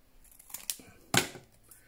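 Scissors trim a paper tag with a few quick, crisp snips up close, the last cut the sharpest, in an otherwise quiet room.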